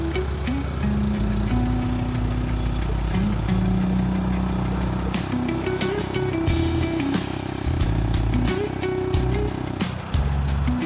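A motorcycle engine runs loud and close but will not pick up, holding a continuous rough drone with small rises and dips in revs throughout, while faint clicks and knocks sound in the background.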